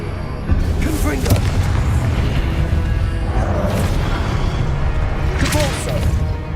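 Explosive Confringo spells are cast over and over in the video game Hogwarts Legacy, making booming crashes and whooshes in a dense, loud stretch of combat while a voice shouts over the effects.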